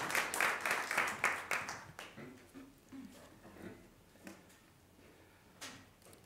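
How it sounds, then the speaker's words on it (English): A few rhythmic claps for JROTC cadets at a Board of Education meeting, fairly faint and brief in a large room, fading into quiet murmuring and scattered shuffling sounds. "Let's give the Northeast Magnet JROTC cadets a round of applause."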